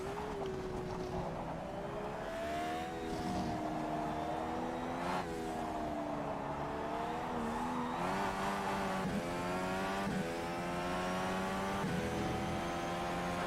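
A simulated IndyCar engine at Indianapolis drones at high revs, its pitch rising and falling steadily through gear changes, loud and continuous with no talk.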